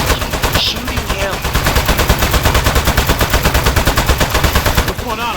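Rapid, rhythmic automatic gunfire pours into a clay enemy in the video game Aperture Desk Job, with loud, evenly spaced shots hammering continuously for several seconds.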